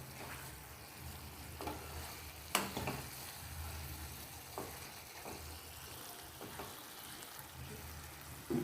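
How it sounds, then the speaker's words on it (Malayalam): Hyderabadi mutton masala sizzles quietly in a pan while a spoon stirs and mixes it, with a steady low frying hiss broken by occasional soft scrapes and knocks of the utensil. "ഒന്നുകൂടെ ഒന്ന് ഇളക്കിയിടാം. നല്ലതുപോലെ ഇളക്കി യോജിപ്പിക്കുക."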